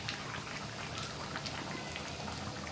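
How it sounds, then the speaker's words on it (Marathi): A crab and prawn curry boils in a pot, a dense continuous bubbling and popping close by, steady throughout with no voices. "चांगला छान उकळी आलेली आहे."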